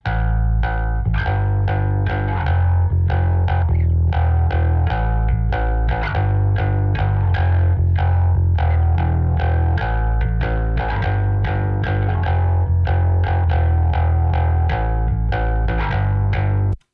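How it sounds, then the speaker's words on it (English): A distorted bass guitar plays a steady, repeating riff with sharp, clicky note attacks, gritty and mid-heavy, with no voices. "a printed track of the original bass with a bunch of distortion pedal"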